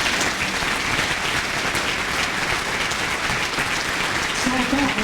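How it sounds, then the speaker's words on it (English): Crowd applause at an outdoor pro-Palestine rally, loud and continuous clapping from many people, dense and unbroken for several seconds. "a big round of applause to Ireland,"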